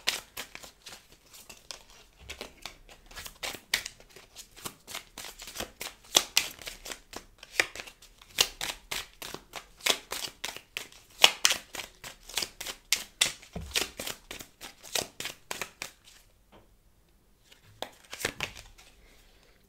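Tarot cards being handled and shuffled close up, with rapid crisp flicking and snapping in dense bursts, pausing briefly near the end before a last flurry of card sounds; no voices.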